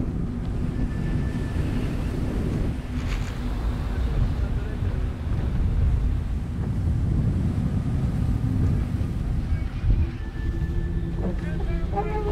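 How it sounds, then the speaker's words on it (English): Steady roar of gusting wind and waves crashing over the deck of a racing yacht during an ocean race, constant and loud throughout, with faint voices briefly underneath. "With wind gusting and the waves hitting the deck constantly"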